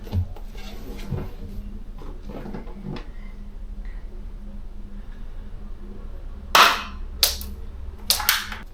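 Shots from a toy gun fired at targets in a shooting game: a few sharp cracks come near the end, one followed by two close together, after a stretch of quiet room noise with faint talk.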